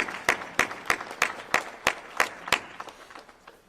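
Sharp, evenly spaced claps ring out about every third of a second, roughly ten in a row, then fade into softer scattered clapping as an audience applauds in a hall.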